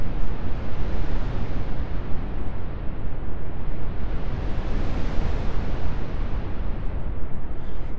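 Airwindows DarkNoise plugin putting out dense, steady broadband noise that sounds like wind, rushing evenly and loudly for the whole stretch with slow swells in its upper range, no voices.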